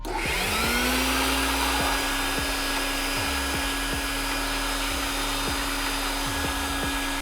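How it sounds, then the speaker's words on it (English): A vacuum cleaner motor runs steadily and loudly throughout, with a constant whine and a few rhythmic knocks or bumps underneath. "I'm gonna vacuum out the vacuum"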